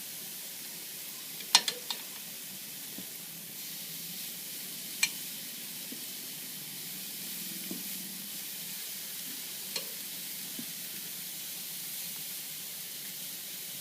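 Steaks sizzle steadily on a grill, a low continuous hiss with a few sharp pops and crackles standing out, no voices over it.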